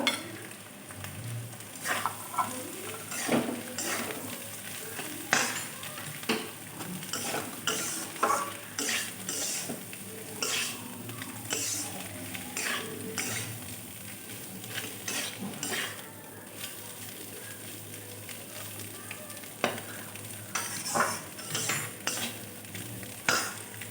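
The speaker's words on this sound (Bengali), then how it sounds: "রুটিগুলো দিয়ে ঠিক চাউমিনের মতো ভালো করে ভেজে নিতে হবে" Torn roti pieces are stir-fried in a pan like chowmein, with a spatula scraping and clattering against the metal over a continuous soft sizzle, close up and without talk.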